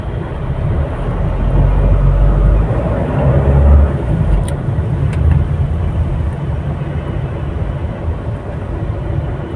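Heavy traffic on the Skyway northbound expressway near Newport, a loud continuous road roar of passing cars with deep low rumble and swelling engine noise, no talk.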